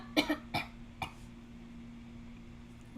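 A few short coughs, three close bursts in the first second, then quiet with a steady low hum underneath.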